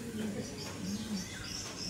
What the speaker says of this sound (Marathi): कबूतर बघा केवढे हा कबूतर कसा आहे